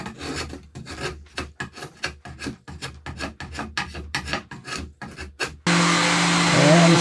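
Rhythmic rasping strokes of a file or rasp trimming the live wood edge of a box lid, quick and close, followed by a steady whirring motor hum near the end.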